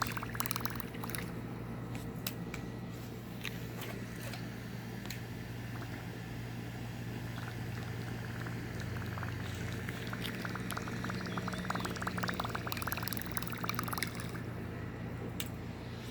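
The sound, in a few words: topwater fishing lure retrieved across water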